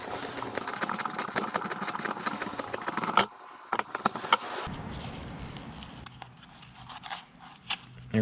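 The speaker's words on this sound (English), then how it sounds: "I basically just cut it all the way around from brace to brace." A blade working around a metal Kubota BX oil filter canister, cutting from brace to brace; a steady rasping, buzzing cut that stops partway, followed by sparse scrapes and clicks.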